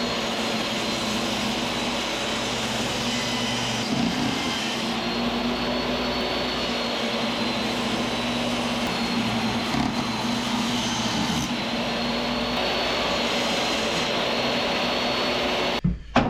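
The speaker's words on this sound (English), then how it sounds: "So I just need to rip these into a couple of small strips that I can then cut some dados in." Wood is ripped into small strips for a dinette bench during a wooden boat restoration: a loud, steady machine roar and whine runs unbroken for about sixteen seconds, close by, then cuts off abruptly.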